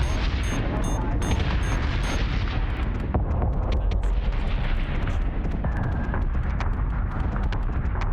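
Dense flak fire and heavy explosions in the Battlestar Galactica Deadlock space combat game, a loud, continuous barrage of overlapping booms and rapid bursts that never lets up.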